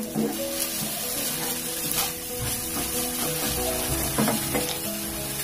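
Red amaranth greens are stir-fried in a pan, giving a soft steady sizzle with scraping and stirring noises, quiet and close, with no talking.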